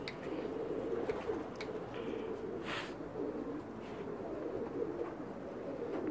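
Pakistani breeding pigeons, a male and female pair, coo steadily in low, throaty murmurs, a continuous close chorus with faint background noise.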